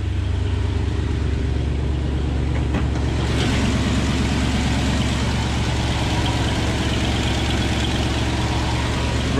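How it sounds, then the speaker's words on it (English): A 1969 Ford F-350 flatbed truck's engine idles steadily while warming up on a cold morning, running a little fast with the choke pulled out, a loud continuous low rumble with a slight change a few seconds in. "Got her warming up here. Got some condensation blowing out."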